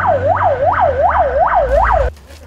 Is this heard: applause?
no